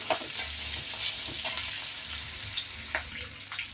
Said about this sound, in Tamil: பூண்டு, வெங்காயம், பூண்டு வெங்காயம் நல்லா வதங்கணும்.